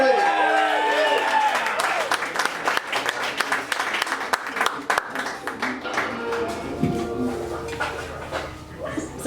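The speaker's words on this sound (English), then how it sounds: "Give it up for the very funny Olivia Searcy. Clap for Olivia" Audience at a stand-up comedy show claps for a comedian, scattered, uneven claps mixing with a voice and some music early on, the clapping thinning out toward the end.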